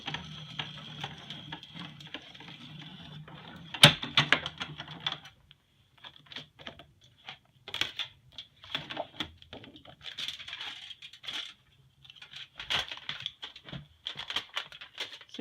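Foil cardstock being run through a manual pressing machine, with a sharp clack, then quiet stretches broken by irregular clicking, crinkling and ratcheting bursts, faint and close.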